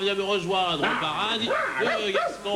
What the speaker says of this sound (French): Doucement, c'est mon chien Coolio.